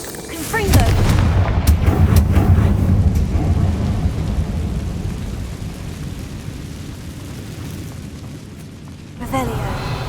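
A Confringo spell in Hogwarts Legacy erupts with a loud booming blast that rolls into a long, fading rumble, and a second burst hits near the end, with a voice heard briefly.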